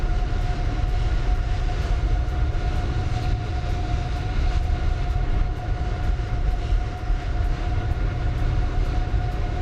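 A Boeing 747-8 airliner in Microsoft Flight Simulator gives a steady, loud broadband engine drone with a constant whine on top, unchanging for the whole stretch and with no voices.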